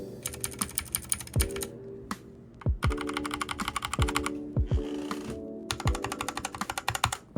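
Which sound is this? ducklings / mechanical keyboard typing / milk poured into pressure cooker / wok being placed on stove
mechanical keyboard typing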